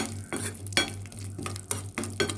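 Raisins are fried with almonds and stirred in a pan for semiya payasam, giving close, quick scraping and stirring strokes over a low steady hum and faint sizzle.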